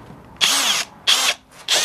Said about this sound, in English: Now I'm going to drill it.